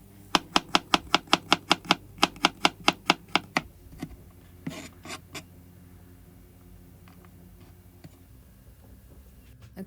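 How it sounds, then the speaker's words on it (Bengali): Two garlic cloves chopped with a knife on a cutting board, a fast even run of about fifteen sharp close taps, then a few scattered knocks and a long quiet stretch of faint room noise. "এখন আমি 2 কোয়া রসুন কুচি করে কেটে নিচ্ছি।"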